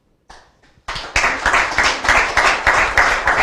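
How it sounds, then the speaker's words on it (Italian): Clapping at an outdoor community festival begins with a few scattered claps, then grows into close, lively applause with distinct individual hand strikes pulsing in an uneven rhythm. "Per me, applauso."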